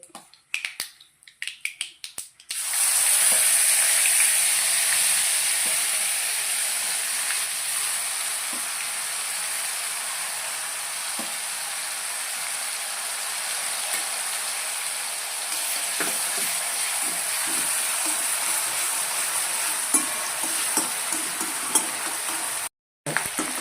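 Onion paste hitting hot oil in a pan with mustard seeds, bursting into a loud, steady sizzle that holds for about twenty seconds after a few brief initial clatters, close and continuous, with no talk.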